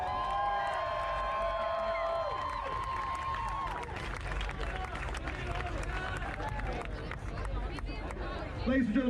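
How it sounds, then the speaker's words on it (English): Crowd applauding and cheering for the contestants of a pretzel eating contest in a bar, starting as music fades out, then clapping and whoops with chatter continuing throughout. "How about a round of applause for all our contestants?"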